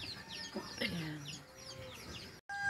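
Chickens cluck softly beside a fenced vegetable garden in a morning farmyard, scattered chirpy calls over faint outdoor background, distant and quiet, with a brief silent gap near the end.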